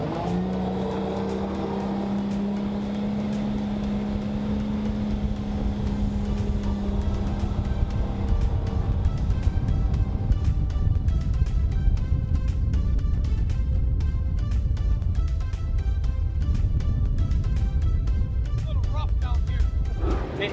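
Gambler bass boat's outboard motor running hard at speed, a loud, sustained roar with rushing water and wind noise throughout; a tonal hum early on gives way to broadband rumble.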